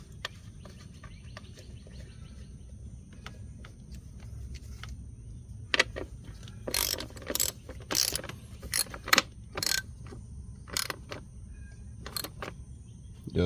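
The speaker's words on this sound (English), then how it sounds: "then we'll just snug it down with our ratchet" A ratchet snugs down a bolt on a 2009-2014 Ford F-150 3.7L engine during misfire repair, a short run of sharp clicking strokes in the second half over a low steady background hum, with no talk.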